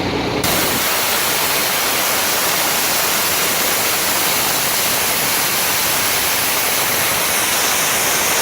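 After a brief quiet start, a loud, steady hiss of compressed air rushes out of a truck air tank drain valve and continues without a break.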